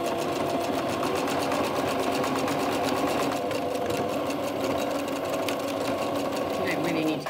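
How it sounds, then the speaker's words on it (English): Sewing machine stitching polyester thread along a quarter-inch seam on a small glasses case, a rapid, even mechanical chatter running steadily close up, with a voice talking over it. "I'm just going to sew here with 1/4 inch seam allowance"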